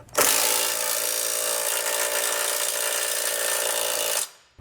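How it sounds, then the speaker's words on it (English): A power tool driving a 3/4 inch socket to snug down trailer hitch bolts on a 2021 Subaru Crosstrek, one loud, continuous whirring run of about four seconds that stops abruptly. "we can come back in with a 3/4 inch socket and snug it all down"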